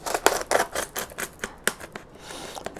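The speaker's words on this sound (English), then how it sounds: "you want a really nice sharp blade for that, and it'll cut through the EPP relatively easily" A sharp blade slicing through EPP foam on an FPV wing build, heard as a quick run of crisp scratchy cuts and snips, close and moderately loud, with no talking.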